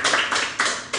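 A small audience at a live podcast taping claps in short bursts that swell and fade, three or four quick surges of applause heard alone without talk.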